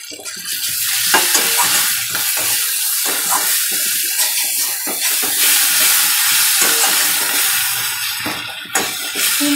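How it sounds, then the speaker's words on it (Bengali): Spice masala stir-fried in a pan with sugar and garam masala powder, giving a steady loud sizzle with repeated scraping stirs throughout and a sharper clatter near the end. "তিন চার মিনিট মশলাটা একটু ভালো করে কষিয়ে নিয়ে"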